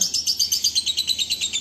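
A small male bird sings a fast, rhythmic run of high, bright chirps repeated about ten times, loud and close.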